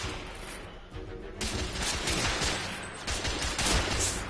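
Gunfire in the video game The Order: 1886, a dense, loud burst of rapid shots and crackling fire that rolls on without pause through the whole short stretch.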